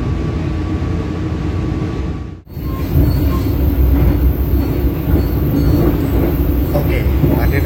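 Brantas economy passenger train rolling along the rails, a steady close rumble of wheels and carriage noise with a brief dip before the clatter resumes, continuous throughout.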